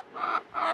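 Two short, harsh calls from Ameraucana chickens at a racing pigeon loft, close and fairly loud, evenly spaced within under a second.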